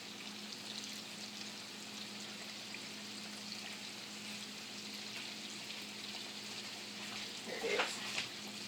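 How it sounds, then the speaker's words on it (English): Homemade donuts frying in grease at about 375 degrees, a steady broad sizzle running throughout at moderate level, with a brief louder bubbling burst near the end and a short spoken remark. "you just fry them until they are golden brown on each side"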